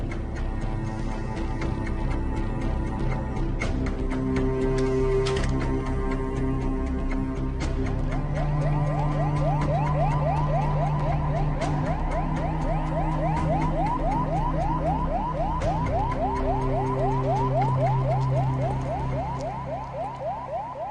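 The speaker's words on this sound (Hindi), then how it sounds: "एम्बुलेंस आने वाली है।" An ambulance siren wails, rising and falling repeatedly over a low steady rumble, with sharp ticking clicks scattered through it.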